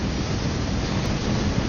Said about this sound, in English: I hear a lot of wind.